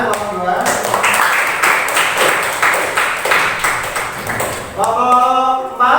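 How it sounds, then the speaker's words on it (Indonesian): Students in a classroom clap for group 2, a brief run of scattered claps that fades as a voice begins speaking. "Tepuk tangan kelompok 2."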